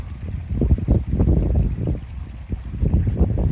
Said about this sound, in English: it's just a really nice sort of babbling brook across the moor